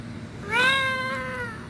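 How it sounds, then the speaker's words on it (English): A cat squeals in one drawn-out, rising-then-falling meow, fairly close and clear against a low background hum, with no voices. "his cat keeps squealing"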